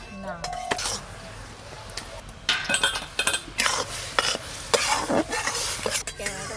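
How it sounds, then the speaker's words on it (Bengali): Jaggery being stirred with water in a pot: scraping strokes and clinks of a utensil against the pot come in irregular bursts, loud and close, with some soft background sound between them. "গুড়টা জলের সঙ্গে ভালো করে মিশিয়ে নেব।"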